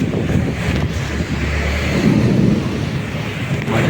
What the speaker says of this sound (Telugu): గాలి వాన